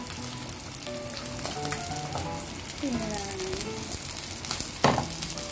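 Small milkfish (bangus) slices fry in hot oil, giving a steady, close crackling sizzle throughout with a few brief louder pops and a faint voice in the background.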